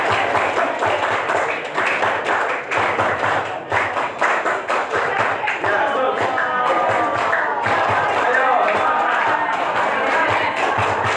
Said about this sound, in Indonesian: kita sambut seperti biasa, tepuk tangan pramuka.